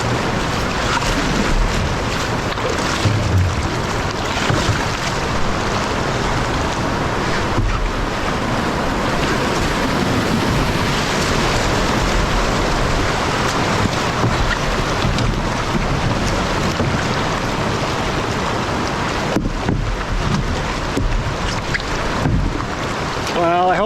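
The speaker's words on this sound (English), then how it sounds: "some very quickly moving water" Fast whitewater river rapids rush and roar around a solo canoe, a dense, steady wash of moving water with wind buffeting the microphone throughout, close and loud for the whole stretch.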